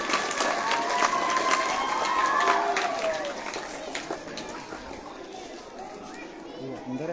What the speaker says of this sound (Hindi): जोरदार तालियां एक बार पुनः